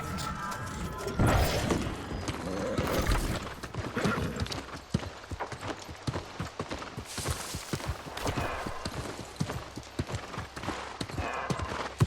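A horse gallops in the fantasy game New World, steady clip-clopping hoofbeats running through the whole stretch, mixed with occasional thuds and crashes and faint background sounds.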